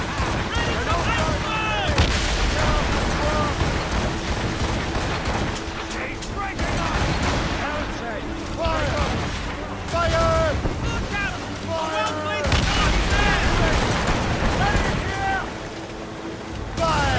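Naval battle cannon fire in Assassin's Creed Rogue, repeated heavy booms and rumbling blasts over wind and sea noise, mixed with shouted voices throughout.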